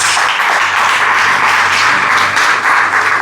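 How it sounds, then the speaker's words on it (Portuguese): A church congregation applauding during a service, loud sustained clapping from a large crowd, even and continuous throughout with a steady low hum beneath it. "Se você puder, aplauda Jesus."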